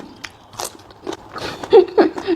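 Someone bites into raw string beans eaten with fermented rice and fish, making several close, crisp crunches followed by chewing.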